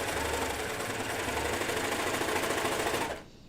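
A serger overlocking the cut edge of a fabric layer runs at a fast, steady mechanical chatter close by, then stops abruptly near the end, leaving a quiet hum.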